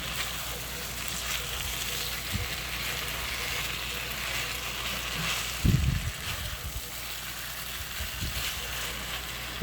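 Shrimp and broccoli stir-frying in garlic sauce with onions, giving a steady, moderate sizzle with a brief louder burst of stirring partway through.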